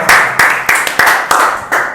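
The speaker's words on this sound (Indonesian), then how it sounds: "Tepuk tangan juga dong buat kru-krunya." A few people clap for the event crew during a podcast, slow rhythmic claps at roughly half-second intervals, close and fairly loud with no talking.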